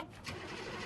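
A K5 diesel engine with glow plugs turning over on its starter switch, a short burst of loud, gritty mechanical cranking.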